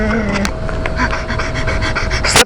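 Rapid, rhythmic panting imitating a dog, a close, breathy series of quick huffs lasting a couple of seconds.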